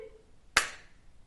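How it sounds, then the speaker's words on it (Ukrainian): A single sharp hand clap rings out once in a quiet room during a children's music lesson, with a brief decaying tail and no voices. "Коли ми побачимо яблучку, будемо один раз плескати."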